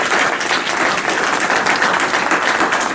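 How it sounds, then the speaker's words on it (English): Loud, sustained audience applause at a Dale Carnegie sales session, dense clapping from a roomful of people holding steady throughout. "Let's give her another round of applause"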